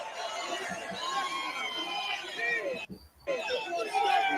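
Large crowd at a political rally chatters and murmurs in a continuous babble, with a brief drop near the end before the hubbub resumes; a voice speaks over the noise.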